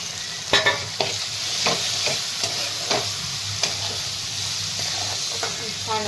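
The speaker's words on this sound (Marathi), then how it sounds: "आता यामध्ये जी परतून घेतलेले आहेत आपण तेलामध्ये ते टाकून घेत आहे" Sautéed ivy gourd frying in oil in a pan, a continuous close sizzle punctuated by repeated scraping stirs of a spoon, loud and alone without talk.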